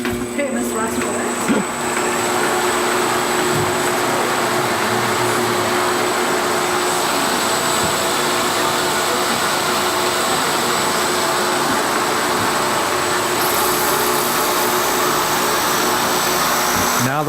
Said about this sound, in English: Now the fiber's been hooked to the spindle and is coming through the machine.